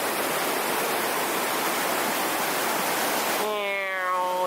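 Fast glacier-fed mountain stream rushing steadily near Rob Roy Glacier, a dense continuous roar of flowing water, close and loud; near the end a brief tonal whistle-like sound rises over it.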